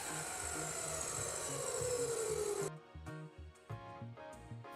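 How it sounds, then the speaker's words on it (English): A 355mm cutting saw slices through a railway rail with a steady, fairly quiet high whine that slowly sinks in pitch, then cuts off partway through, leaving intermittent knocks and brief motor bursts. "We use a 355mm diameter cutting saw."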